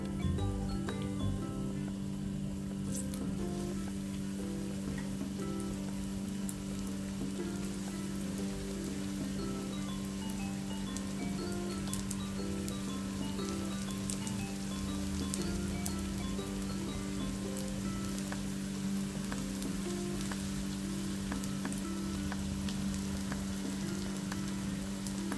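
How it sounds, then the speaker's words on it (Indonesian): Ulen ketan, sticky rice cakes coated in rice flour, fry in hot oil over medium heat, giving a steady, dense sizzle that holds evenly from start to finish with no one talking. "goreng ke minyak yang sudah panas"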